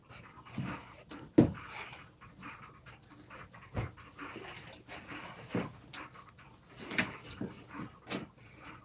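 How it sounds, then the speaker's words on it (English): A dog pants close by in quick, uneven bursts of breathy huffs, with a few sharper snorts and whimpers scattered among the rapid breaths. "Dogs."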